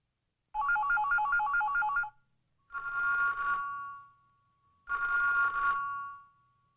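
An electronic telephone ringtone sounds three times, each ring a bright warbling tone of about one and a half seconds with short silences between.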